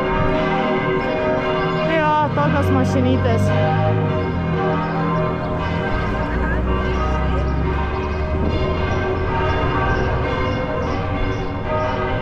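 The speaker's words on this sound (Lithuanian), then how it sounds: "Varpai skambalėje." Church bells ring from a bell tower beside a Swiss lakeside road, a steady sustained peal heard during a bicycle ride, with a brief spoken remark near the start.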